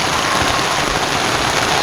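Steady rain pours down at Manori during a fishing outing, a dense, even hiss of drops on surfaces, close and continuous with no voices.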